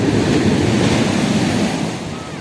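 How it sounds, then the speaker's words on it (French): Ocean waves breaking on the coast near Carnac in freezing weather, a loud, close, continuous roar of surf mixed with wind buffeting, easing slightly toward the end. "Ils font du bruit les vagues, hein."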